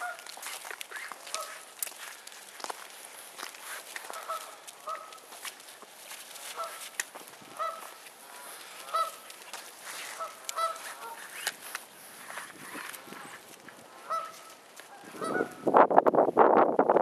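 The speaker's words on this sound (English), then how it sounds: "Like, you see those birds?" Geese honk outdoors in repeated, evenly spaced calls at moderate distance, with crunching footsteps on ice nearby and a louder burst of noise close at the end.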